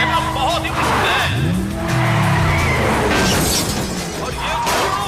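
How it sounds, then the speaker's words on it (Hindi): Cars in a race skid and collide: tires squeal in rising and falling sweeps, engines rumble, and a crash of shattering impact follows, loud and close, with a voice shouting over the commotion. "और ये दोनों गाड़ियों के बीच जबरदस्त टक्कर हुई है।"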